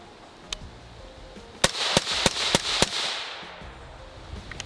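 A rifle fitted with a muzzle brake fires about five sharp, loud shots in quick succession, followed by a brief ringing decay and then quiet.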